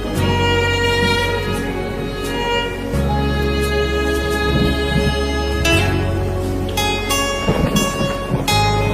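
Rain falls with deep rolling thunder, a heavy, sustained low rumble under steady downpour, mixed with music playing over it.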